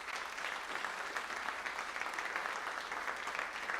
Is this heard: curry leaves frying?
no